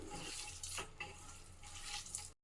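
Onion bajji batter is mixed by hand while water is added little by little, producing a steady close-up wet squelching and stirring against the bowl, continuous and without speech.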